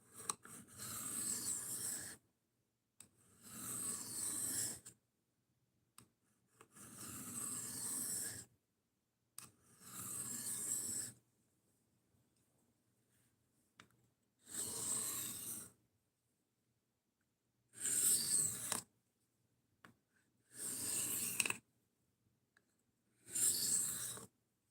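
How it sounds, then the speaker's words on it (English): Knife blade stropped on a new strop to take off the burr, rhythmic rasping strokes in short bursts separated by brief silences, close and fairly soft. "Take off the burr, and then right after that we'll use the new strop."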